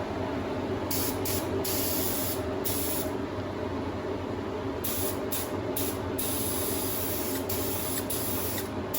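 Silver base coat spray painted onto vintage motorcycle shock absorbers, a steady close hiss of spray broken into repeated short bursts as the nozzle is pressed and released.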